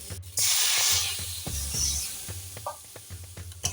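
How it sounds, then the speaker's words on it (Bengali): Warm water poured into a hot pan with poppy seeds and ginger gives a sharp burst of hissing sizzle. It dies down to soft, intermittent spitting and clinking, quiet and close. "এখন আমি জল দিয়ে দেবো উষ্ণ গরম জল দেবো"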